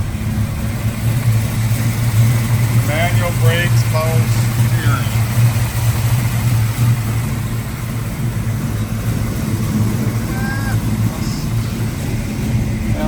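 A 1972 Dodge Challenger engine running at a steady idle, a constant low rumble beneath close talking throughout.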